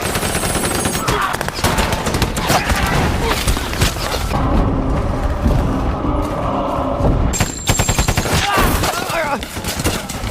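Dense, continuous machine gun fire in a war film battle between Soviet and German soldiers, loud rapid bursts with booms and mechanical clatter filling the whole stretch.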